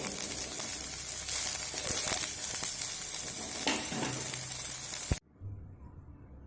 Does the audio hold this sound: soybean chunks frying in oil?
yes